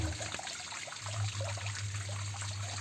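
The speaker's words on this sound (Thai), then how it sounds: "ตัวนี้ก็เป็นน้ำตกเทียมสีจำลอง" Water trickles and splashes continuously over a small artificial decorative waterfall with a tree-stump design, a steady close gurgle with a low hum underneath.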